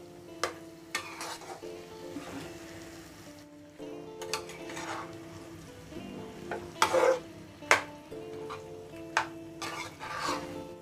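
Mushrooms coated in masala sizzle and fry in a pan as a spoon stirs and scrapes in irregular strokes, with occasional sharper clinks against the pan, close and moderately loud, without speech.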